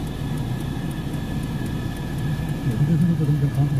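Steady low rumble of a car moving slowly through rush-hour traffic near Faisal Mosque and the cantonment area, with a continuous engine drone that swells slightly toward the end.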